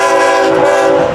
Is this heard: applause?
no